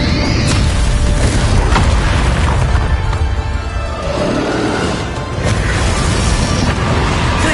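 A Bombarda spell explodes in Hogwarts Legacy, part of a loud, dense spell-combat mix of booms and crashes that keeps up from start to finish, with bright bursts near the start and again a little past the middle.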